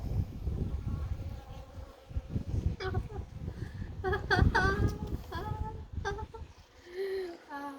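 Honey bees robbing a hive after a swarm left, a dense close buzzing hum that runs throughout, with people talking over it partway through.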